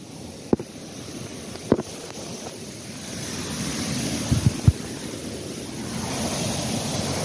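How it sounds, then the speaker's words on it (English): A loud waterfall roars as a broad, constant wash of rushing water that slowly swells, with a few sharp knocks from handling nearby. "The waterfall is about to get loud as hell if it's not already."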